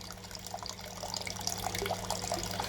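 Water splashes and patters steadily as a brewing vessel fills, a close, continuous rushing with small drips and splatters and a low hum underneath.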